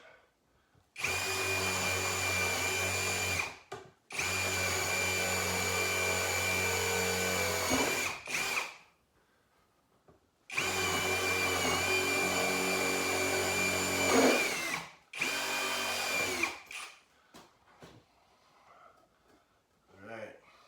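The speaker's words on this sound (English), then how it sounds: "and we'll drill the holes." A power drill whirs loudly in four long bursts separated by short pauses, the motor pitch dipping as it bites into wood while drilling staggered holes for a table.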